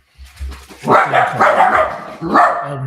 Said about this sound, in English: the mystery guest is provoking these dogs into some kind of noise making